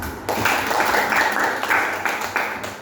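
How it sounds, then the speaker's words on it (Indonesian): Classroom applause from students in a Christian religious education lesson, a steady wash of clapping lasting a few seconds at moderate volume. "Oke, kasih aplaus."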